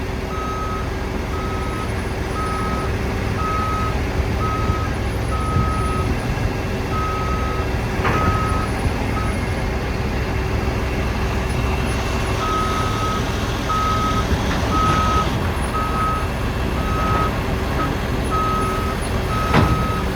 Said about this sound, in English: Orange trucks roll up, better get in gear.